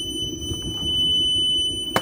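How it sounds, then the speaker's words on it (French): A bus door warning alarm sounds as a steady, piercing electronic tone held throughout, close and clear over low background rumble, ending with a brief click. "mon alarme sonore pour la porte"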